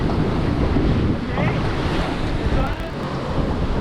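A strong gust roars across the microphone over rushing waves and hull splash aboard a J109 sailboat racing in high wind, a dense continuous wash with faint voices beneath.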